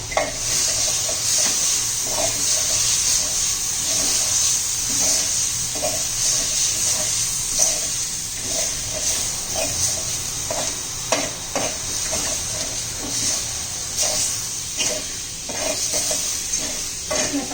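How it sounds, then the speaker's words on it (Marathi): A copper pot scrapes and crushes spicy chilli kharda in a pan with the gas turned off, making repeated scraping and grinding strokes over a steady sizzle that lasts throughout. "आता मी गॅस बंद करते आणि असं तांब्याने खरडून घ्यायचं आपल्याला"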